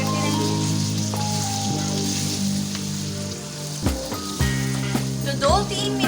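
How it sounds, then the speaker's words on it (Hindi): Chicken pieces frying in a pan for chilli chicken, a close steady crackling sizzle with a low hum beneath, broken later by clanks and scraping as the pieces are moved. "तो अब मैं इसे फ्राई कर रही हूँ।"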